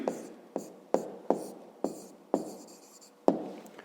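Pen or pencil strokes scratch out an answer to a maths exercise in a series of about eight short, sharp writing marks, close and quiet, each stroke tapering off.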